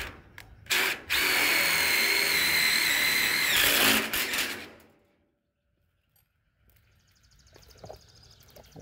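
A power drill re-drills holes for spreader bars in a plastic IBC tote, whining loudly and steadily for about three seconds after a couple of short bursts, then winding down into quiet handling clatter.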